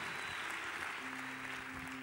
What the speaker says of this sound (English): give the Lord a hand clap of praise here tonight